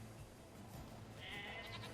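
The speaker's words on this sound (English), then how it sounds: "you can hit all the sheep too?" A sheep in Nier Replicant bleats as it is struck during gameplay, a short bright cry rising over a steady game soundtrack bed, fairly close and moderately loud.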